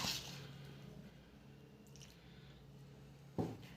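Flour slurry batter being stirred with water in a bowl, soft wet squishing and faint sloshing, quiet and close, with a brief louder squelch near the end.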